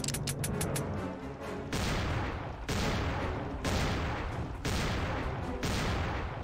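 Rapid gunfire in a fan-made Halloween video game: loud bursts of shots in quick succession, separated by short regular breaks, with dense crackling blasts throughout.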